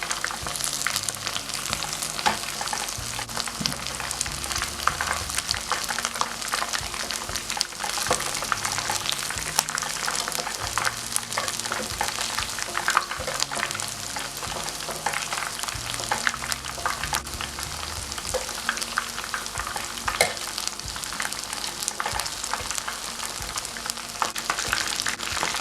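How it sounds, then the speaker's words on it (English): Chicken sticks deep-fry in hot oil until golden and crispy, a steady, fairly soft crackling sizzle with dense popping that continues throughout without talk. "Fry chicken sticks until golden brown and crispy"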